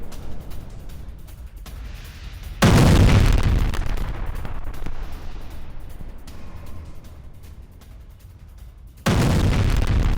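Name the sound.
explosions from FAB-3000 guided bomb attack on military base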